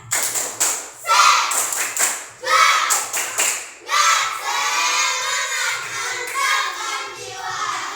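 A group of children performs a rhythmic spirit clap chant in a room: sharp claps in quick bursts mixed with shouted voices, then sustained loud cheering, close and energetic.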